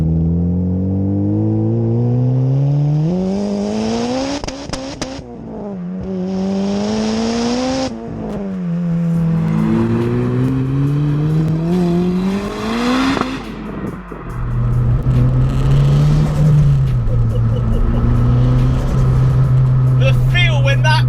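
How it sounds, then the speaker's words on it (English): A turbocharged 440 bhp Honda Civic Type R EP3 engine with VTEC revs hard and repeatedly, its pitch climbing and dropping between pulls, with a loud, raspy exhaust note close by. "the noise that comes out of this is a theatre of ridiculous VTEC and"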